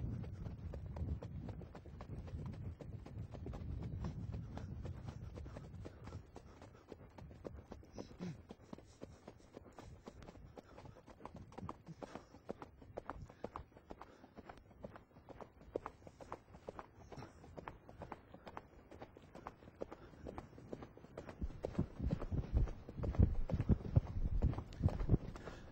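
Hooves of an Icelandic five-gaited horse beat out a rapid, rhythmic gallop outdoors, the clip-clop running through the whole passage at moderate distance, louder near the start and end.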